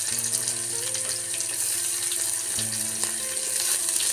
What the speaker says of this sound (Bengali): ভালোভাবে এবার নাড়াচাড়া করে ভেজে নিচ্ছে লাল লাল করে